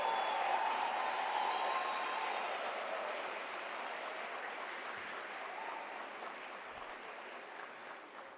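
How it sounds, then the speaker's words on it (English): Sustained audience applause at a University of South Africa autumn graduation ceremony, honouring graduates and diploma holders: a dense, steady wash of many hands clapping in a large hall, gradually tapering off slightly over its length. "can we give our graduates and diplomas a warm round of applause"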